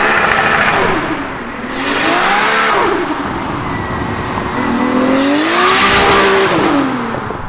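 A 30-year-old Nissan engine revs hard and very loud, held against the rev limiter in rising and falling waves of harsh, close-up roaring.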